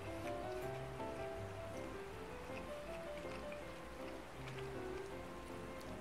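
Steady rushing water from a waterfall on the Shoreline map of the video game Escape from Tarkov. It forms a continuous broadband wash at even loudness for the whole stretch, with faint tonal ambience underneath and no talk.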